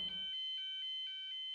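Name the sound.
fire alarm raised from a call point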